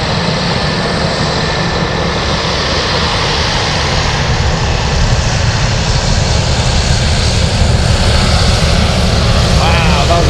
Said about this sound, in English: I think that's the best sounding takeoff.